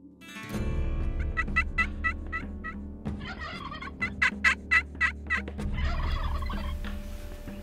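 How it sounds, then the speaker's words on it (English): Wild turkeys gobble repeatedly in bursts, several birds calling close by over a steady low background rumble, with loud rattling gobbles clustered together. "I'm surrounded by turkeys."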